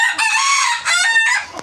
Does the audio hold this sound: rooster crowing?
yes